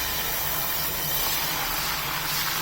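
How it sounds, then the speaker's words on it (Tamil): Dosa batter, a raw banana (valakai) dosa, sizzles on a well-heated griddle, giving a steady, loud broadband hiss that holds without a break for a few seconds. "இப்போ நம்ம தோசை ஊற்றிடுவோம்."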